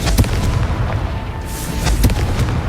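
Confringo fire spell explosions in Hogwarts Legacy, several sharp booming blasts at the start and near the end over a rumbling, crackling backdrop, loud and close.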